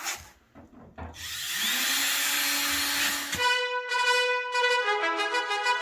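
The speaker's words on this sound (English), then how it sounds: "So I think I'm going to just try to drill it out." A power drill bores into a storage-locker safe's lock, with short start-up bursts followed by a sustained grinding whine and then a higher, pulsing metallic drilling tone, loud and close with no talking.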